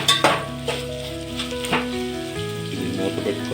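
Chicken biryani masala fries and is stirred in a pan, a continuous close sizzle broken by a few sharp clinks and scrapes of the spoon against metal.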